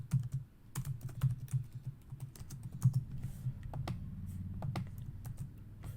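Quick bursts of keystrokes on a computer keyboard as code is typed, close and fairly quiet, with irregular clusters of clicks and brief pauses between them.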